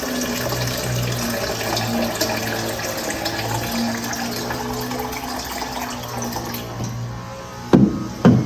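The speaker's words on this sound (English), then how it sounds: "Of course, I add my water. It's important to add water." Water pours steadily for several seconds, a continuous running gush, with a couple of light knocks near the end.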